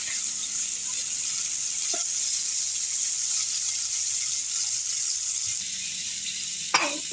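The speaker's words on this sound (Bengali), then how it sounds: "আলুগুলো একটু হালকা লাল লাল করে ভেজে নিতে হবে।" New potatoes frying in oil in a pan give a steady, even sizzle throughout, with a couple of brief stirring knocks near the end.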